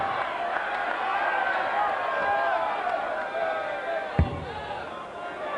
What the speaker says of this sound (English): Can you hear the crowd shouting?